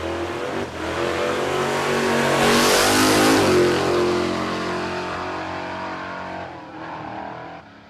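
A no-prep drag racing car at Warwick Dragway, Australia, makes a pass down the strip. Its engine roars loudly as it approaches and sweeps past, then fades into the distance.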